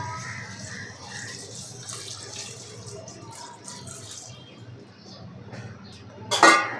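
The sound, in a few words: pouring water into pot of rice for chicken pulao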